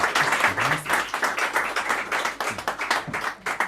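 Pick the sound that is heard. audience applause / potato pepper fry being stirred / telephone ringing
audience applause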